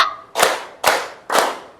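Three loud, sharp group hand claps in unison, evenly spaced about half a second apart, each a crisp burst from a classroom of learners clapping on count, with no talk between them.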